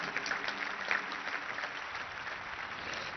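An audience applauds inside a church, a brief patter of clapping heard faintly and somewhat distant, steady for a few seconds before fading.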